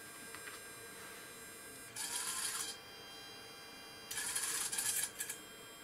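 AC servo motor turning the rotating laser head of a Panavia Tornado GR4 LRMTS Mk3 unit on a test bench, giving two bursts of bright mechanical whirring over a steady electrical hum.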